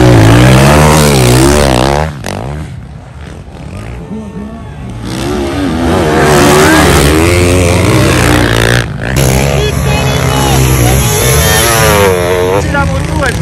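An overheating race motorcycle engine revs loudly and roughly, rising and falling, with people talking over it.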